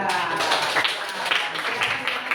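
A classroom full of people claps together in a dense, steady ripple of applause that lasts a couple of seconds.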